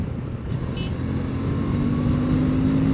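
A Suzuki V-Strom 650 cruises in sixth gear at speed, a steady engine drone building slightly in pitch under constant wind rush, with no voices.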